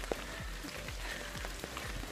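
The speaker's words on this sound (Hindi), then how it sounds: "तो बारिश देवता थोड़ा कम हो गया है मेरे बात सुन के" Steady rain falls near Harvalem Waterfalls in Goa, a continuous close patter with scattered individual drops hitting surfaces, no voices.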